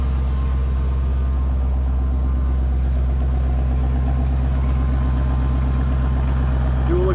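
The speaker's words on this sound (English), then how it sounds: "Dual exhaust sounds good." A 1974 Ford Maverick idles through its dual exhaust, a steady low rumble holding constant and close for several seconds with no clear talking over it.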